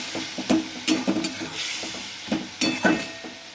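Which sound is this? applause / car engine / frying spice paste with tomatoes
frying spice paste with tomatoes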